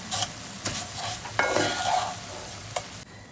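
Shredded kadayif pastry is stirred in melted butter in a pan, a soft continuous sizzle with several scraping strokes of a spoon, close-up and without talk.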